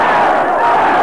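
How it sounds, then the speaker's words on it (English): A boxing arena crowd chants and roars in a loud, sustained wall of massed voices during a bout featuring Khaosai Galaxy, with a commentator's voice over it. "And the crowd chanting with that one."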